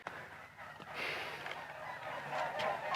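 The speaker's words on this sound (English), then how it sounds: "Goddamn birds." Outdoor birds call faintly in the background with a few goose-like honks and clucks scattered over quiet ambience.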